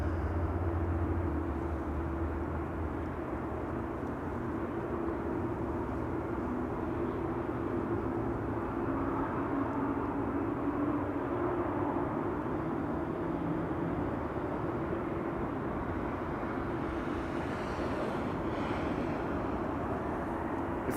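A Turkish Airlines A330-200 airliner arriving at Amsterdam Schiphol gives a steady, distant jet rumble that holds evenly throughout, faint and broad with no voices.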